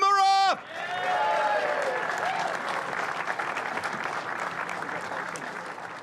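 Crowd applause at a motor racing podium ceremony for the 70th New Zealand Grand Prix, a steady wash of clapping that follows a brief burst of announcer speech and then carries on evenly at moderate level.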